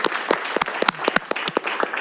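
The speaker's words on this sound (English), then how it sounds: "I think you deserve a big round of applause for that" Applause from a city council meeting audience in Rancho Palos Verdes, a burst of clapping from many hands, moderately close and steady, with no talk over it.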